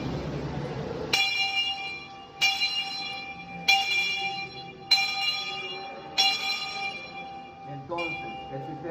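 A steam locomotive bell is rung by rope, giving five evenly spaced clangs roughly every 1.2 seconds, each ringing on and fading, with a softer sixth strike at the end; a voice is heard faintly at the start.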